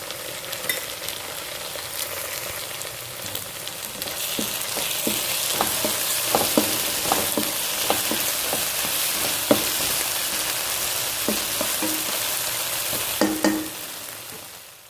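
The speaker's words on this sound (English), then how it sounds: "So to this fried onion, adding the red chili paste." Fried onion sizzles in a pan as red chili paste is added for cabbage Manchurian, a steady hissing fry with repeated sharp clinks and scrapes of stirring throughout, no voices.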